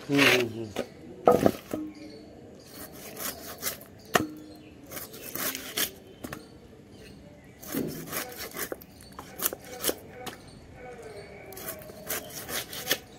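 A knife cutting fish into thick pieces, giving repeated scraping and chopping strokes in irregular bursts, close by, with a voice talking in between.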